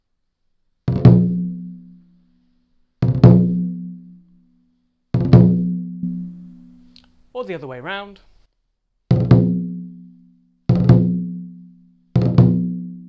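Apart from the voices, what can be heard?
drag rudiment with stick buzz on lion dance drum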